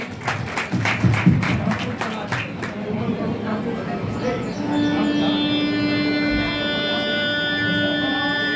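Audience clapping at a school class reunion held 25 years after Class 10: a brief burst of scattered claps in the first few seconds that fades under a crowd murmur, followed by a steady tone.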